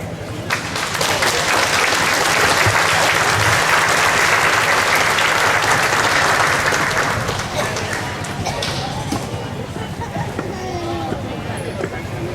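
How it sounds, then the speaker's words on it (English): A festival crowd at the Hmong Wausau Festival breaks into a loud, dense round of applause that holds strong for several seconds, then thins out as voices and crowd chatter rise beneath it. "One more round of applause, please"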